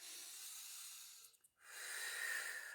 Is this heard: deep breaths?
yes